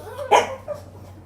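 A single short dog bark rings out close by, followed by a softer brief yip against a quiet background.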